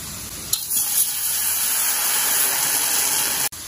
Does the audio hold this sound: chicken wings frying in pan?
yes